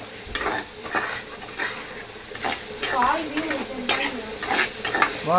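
Food frying in a pan for a Tamil-style suvarotti dish while being stirred, with steady sizzling and repeated scraping strokes of a spoon against the pan, and voices talking over it.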